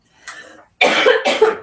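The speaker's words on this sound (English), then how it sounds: "I had a cough so bad" A person coughs: one softer cough followed by two strong, close, harsh coughs in quick succession, with no talk.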